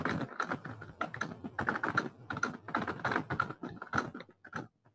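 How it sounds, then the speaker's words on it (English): Rapid, busy typing on a computer keyboard rattles on continuously for several seconds, close and fairly quiet, with dense irregular key clicks and no pauses. "is that you typing?"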